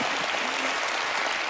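A studio audience at the Penn & Teller Fool Us magic show applauds in a dense, even wash of clapping that fills the whole short moment.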